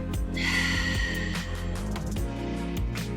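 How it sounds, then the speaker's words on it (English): A deep, steady exhalation during a yoga workout, a long, breathy outflow of air lasting a few seconds, close and clear against a faint background. "Together, let's breathe in. Exhaling out."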